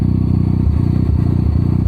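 A car with a rotary engine with 93,000 miles idles loudly just after a hot start, a close, steady, rapid throbbing pulse with rough clattering texture and no talk.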